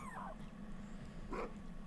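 A puppy whimpering in the video game Minecraft, two faint high yips or whines, one near the start and one toward the end, over low background hum.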